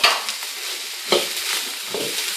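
Diced bacon and carrot sizzle in a frying pan, a crackling hiss broken by a few scraping stirs of a utensil, close up with no one speaking.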